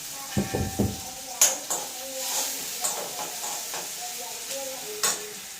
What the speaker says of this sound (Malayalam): ഒരു ചെറിയ കഷ്ണം ഇഞ്ചി രണ്ട് മൂന്നല്ലി വെളുത്തുള്ളി ഇവ ഒന്നിച്ചതച്ച് കൂടെ ഇട്ട് അതും വഴറ്റി